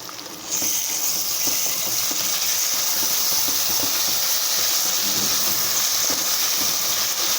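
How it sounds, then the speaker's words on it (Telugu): Ground masala paste with mint and coriander leaves sizzles and fries steadily in a pan for egg and potato biryani, a continuous loud hiss starting abruptly after a brief quieter moment, with faint stirring clicks underneath. "మసాలా ముద్ద పచ్చిదనం పోయినంత వరకు అలా వేయించుకున్న తర్వాత"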